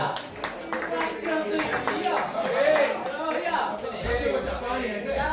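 Audience clapping at an awards night, steady applause of many hands mixed with crowd chatter and voices throughout, fairly close and moderately loud.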